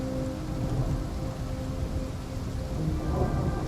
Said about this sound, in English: Weeks of endless rain have pelted down upon the earth